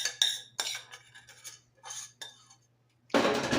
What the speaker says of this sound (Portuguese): Eu vou misturar para vocês verem que cor linda que vai ficar